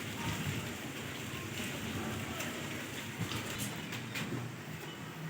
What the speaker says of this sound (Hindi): तेज़ बारिश और मौसम सुहाना।